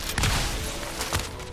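Pump shotgun in a budget shooter video game, two heavy blasts about a second apart over constant background game noise, fairly loud and close.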